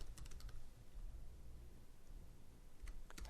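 Quick, faint clusters of keystrokes sound as code is typed on a computer keyboard while building a Xamarin iOS app. Quiet taps come in short bursts against a low background hum.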